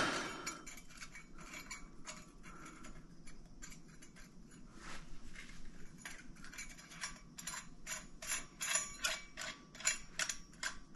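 A bolt with a washer is cinched down on an air-cooled Porsche 912E/914 VW 2.0 Type-4 engine build, heard as close ratcheting clicks and metallic tool clatter in irregular bursts over a quiet background.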